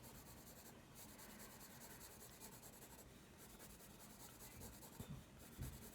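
A colored pencil scratches and rubs continuously across paper while an apple is drawn, a soft, close, steady grainy friction with slight variations in stroke pressure.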